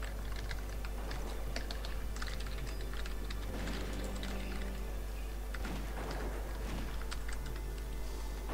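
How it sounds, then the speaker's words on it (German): Fast clicking of a computer keyboard during a German World of Warcraft session, steady and close, over a low constant hum with no talking. "Ich habe extra versucht, leise zu tippen, aber es ging einfach nicht."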